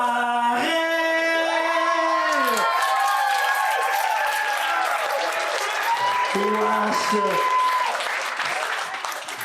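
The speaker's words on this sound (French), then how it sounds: "J'en reviens pas que vous applaudissez ça." Audience applause at a live comedy improv show, a broad, steady clapping that builds after a couple of seconds and holds, mixed under a voice singing and talking.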